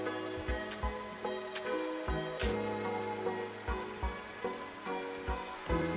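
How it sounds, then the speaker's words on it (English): Steady rain in the Rimworld video game, a soft, even patter with faint ticking drops over about six seconds, quiet and continuous. "It's been raining for like 3 days out here around."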